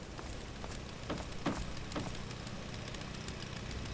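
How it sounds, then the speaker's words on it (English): A generator hums faintly in the Fallout 3 game area of the Pitt, a low steady rumble with soft crackling ticks scattered across it. "Oh, it's the sound of a generator."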